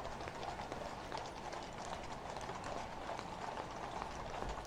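Horses pulling carriages in the State Opening of Parliament procession trot along, with steady rhythmic clip-clopping of many hooves on the road over a busy outdoor background.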